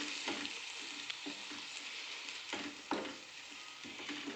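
A nutritious rice dish (tandul kundra) is stirred in a cooking pan, with soft scraping strokes and a gentle sizzle repeating at an uneven pace, quiet and close, with no talking.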